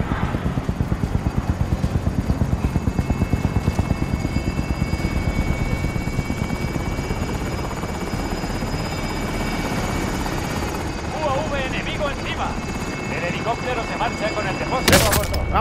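A helicopter in Call of Duty: Modern Warfare drones with a steady, loud rotor thump through the first half amid gameplay sounds, then fades somewhat under sparse bursts of action effects, with a sharp burst near the end.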